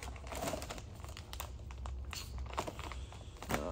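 Plastic packaging around a head gasket is cut and torn open close by, a dense run of crinkling and rustling with small snaps and tears lasting a few seconds.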